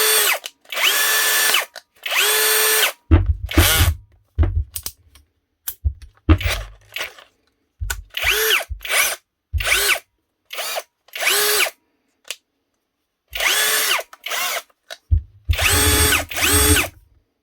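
Cheap copy of a Makita cordless drill, bought from Amazon and running on a Makita battery, whirs loudly in repeated short bursts of varying length with gaps between and low rattling at some starts.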